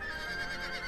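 A horse in Zelda Breath of the Wild gives a short, clear neigh with a steady whinnying tone, close and fairly loud, lasting under a second with no talk over it.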